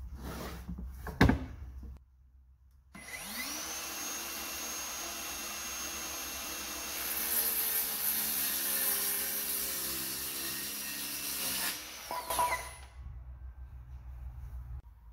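A power saw cuts through lumber pieces for an in-truck-bed storage build, a steady whining buzz running about ten seconds alone after a few short knocks, then winding down.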